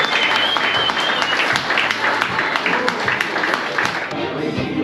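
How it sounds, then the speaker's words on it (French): Steady, dense applause from an audience at a golf competition awards ceremony at Golf de Valescure, sustained clapping throughout with no break. "Applaudissements s'il vous plaît"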